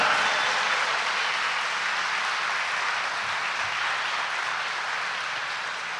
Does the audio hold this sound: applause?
yes